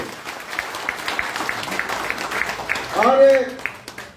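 Scattered clapping from an audience in a hall, honoring two respected mentors, with a voice rising briefly near the end.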